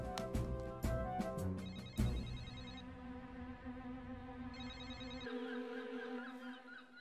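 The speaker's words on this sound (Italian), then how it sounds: "Ma perché oggi non mi risponde nessuno al telefono?" A cartoon telephone rings on and on with no answer, repeated electronic ring bursts at moderate volume with a steady background tone, no voices.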